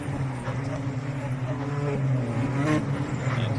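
Porsche race cars pass during a circuit race in Pärnu, engines rising and falling as a car moves by at moderate distance, the tone climbing briefly near the end.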